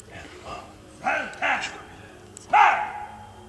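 Several sharp dog barks ring out, spaced irregularly and a little distant, over quiet background noise.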